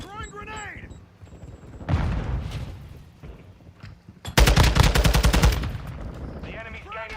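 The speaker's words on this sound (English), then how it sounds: "Throwing grenade!" Loud automatic gunfire in Call of Duty Modern Warfare II, with a grenade thrown amid the shooting. A dense burst of rapid shots hits hard near the end, with voices calling out around it.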